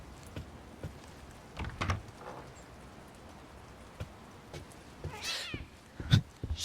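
A cat meows a few times in a horror video game, The Medium, set at the Niwa Workers' Resort in Poland, with soft footsteps and light knocks around it and a longer drawn-out meow near the end.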